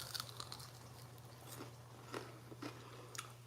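Close, quiet crunching bites and chewing of a fried saltfish fritter, a few sharp crisp crunches spaced over several seconds against a low steady hum.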